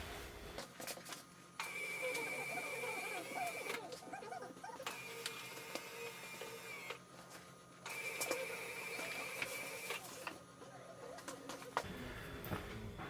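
The power antenna mast motor on a 1998 Ford Contour running through its cycle: a steady whirring drone that stops and starts in two long runs, faint and close, with brief pauses between them.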